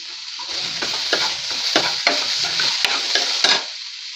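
Vegetable pulao cooking in ghee is stirred in a pan, with steady sizzling frying and repeated scraping strokes of a spoon close up, continuous for several seconds.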